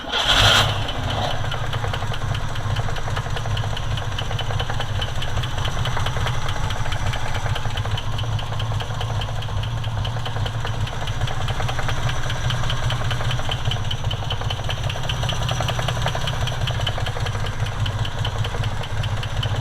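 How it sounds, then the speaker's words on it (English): A 1970 Jeep Jeepster Commando's original Buick Dauntless V6 cranks and catches, then settles into a loud, steady, close idle with a low throbbing rumble that holds for the rest of the clip. "you can start it up. It's the original Dauntless V6 made by Buick."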